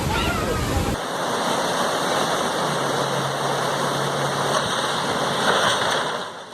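Ocean waves roll onto a beach with a loud, continuous rushing wash. The surf swells slightly near the end, and a faint low hum sits beneath it.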